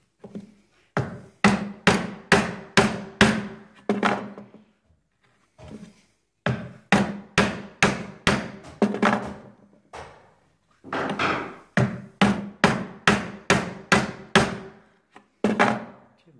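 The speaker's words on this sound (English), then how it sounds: "Now I'm going to turn the chisel around and clean off the left hand side" A wooden mallet strikes a chisel cutting a mortice in timber, loud sharp knocks in quick regular runs of five to eight blows separated by short pauses.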